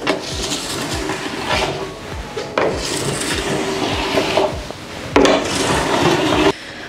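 Snowboard edge being filed, a hard metal file run along the edge in long rasping strokes, loud and close, repeated several times with brief pauses between passes.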